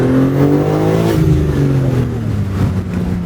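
A BMW G80 M3 engine revs loudly and up close, its pitch climbing and falling through a couple of throttle blips with a strong, raspy tone and no voices over it.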